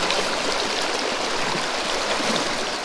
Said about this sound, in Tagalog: Ay, medyo malakas yung agos dito eh.